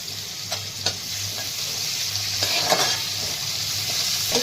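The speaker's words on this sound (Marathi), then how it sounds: "छान कांदा पण परतून घ्यायचा" Onion and curry leaves sautéing in oil in a pan, a loud continuous sizzle with a few scraping stirs of a spoon near the start and middle.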